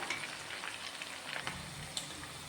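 Chicken pieces fry in oil for chicken kondattam, giving off a dense, steady crackling sizzle with rapid popping, like light rain on a surface. The sound stays close and continuous, with no talking.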